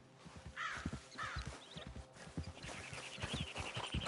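Horse hooves clip-clop at a steady walking pace in Red Dead Redemption 2, mixed with crow caws and faint outdoor ambience, moderately close and quiet, with no talk.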